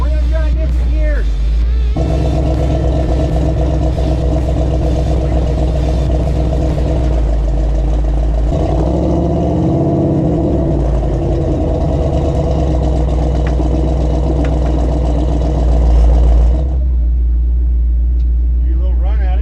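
Off-road vehicle stuck in deep sand, engine revving hard and rumbling through gear changes, loud and close, with a pause in the revs and people talking over it.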